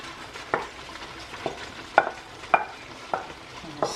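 A spoon scrapes through Ghanaian jollof rice and stew in a pot, making about seven separate stirring strokes at an uneven pace. Each scrape is close and crisp, set against a quiet background hiss.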